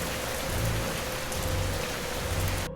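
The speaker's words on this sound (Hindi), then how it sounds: "बारिश शुरू हुई, धीमी धीमी बूंदों से जो बाद में गरजती बिजली में बदल गई।" Steady rain falls continuously on a surface, a dense even hiss of drops with a low rumble underneath, like the start of a storm in a forest.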